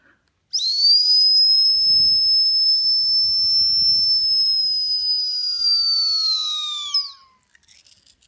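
A siren whistle combined with a Chinese exhaust turbo whistle for an RC car gives one sustained, shrill, piercing tone, loud and close, holding steady for about six seconds before cutting off abruptly, with faint rumbling underneath.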